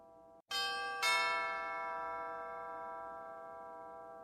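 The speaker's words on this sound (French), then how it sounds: "Il lut juste le nom sur la sonnette qu'il fit résonner à 2 reprises." A doorbell rings twice, two bright chime strikes half a second apart, the second ringing out and slowly decaying alone over a quiet background.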